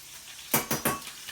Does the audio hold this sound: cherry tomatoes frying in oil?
yes